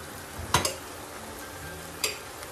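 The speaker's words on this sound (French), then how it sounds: "mélanger bien le riz" Cooked, cooled rice is tossed in a salad bowl, giving soft scraping with two brief clinks of a utensil against the bowl at an unhurried pace over a faint background hiss.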